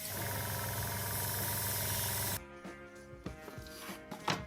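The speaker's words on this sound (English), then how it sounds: "it's really unhandy to spray into this container as I'm doing it right now" A steady, broad spraying hiss from a cheap Timbertech airbrush spraying paint into a container runs for a couple of seconds, then stops abruptly, leaving faint clicks and small mechanical taps.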